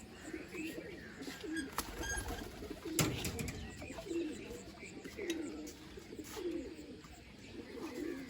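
Pigeons coo softly in short repeated bursts on a rooftop, with faint chirps and background noise between them and a sharp click near the start.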